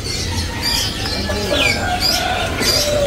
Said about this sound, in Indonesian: di sini ada yang namanya burung perkutut lokal ya